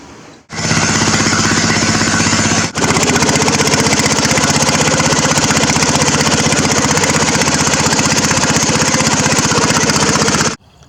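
Riding lawn mower engine running steadily at high throttle, loud and close, after a short lead-in, with a brief dip in the middle before it continues to cut off near the end.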